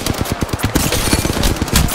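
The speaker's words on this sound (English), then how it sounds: "Opening fire." Rapid automatic gunfire from a shooter match in Apex Legends, a dense, continuous burst of loud shots with no pauses.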